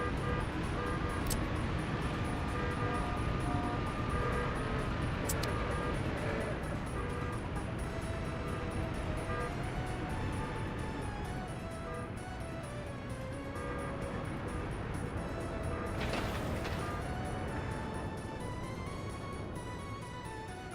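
Steady car traffic in the Workers and Resources city-building game: a continuous, even rumble of many vehicles moving along roads, with faint engine tones drifting in and out and no distinct single pass-by.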